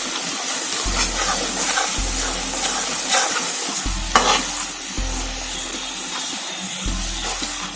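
Asafoetida sizzling in hot oil over low to medium heat while tempering spices for a Rajasthani whole onion curry, a steady close frying hiss with stirring scrapes and small pops, no talk.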